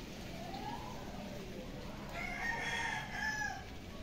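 Chickens cluck and a rooster crows in the distance over steady outdoor background noise at a rural Philippine homestead, with no one talking.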